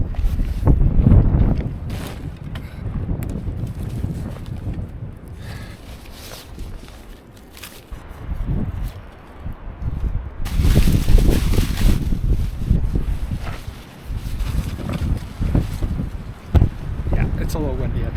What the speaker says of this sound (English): It's a little windy up here on the ridge.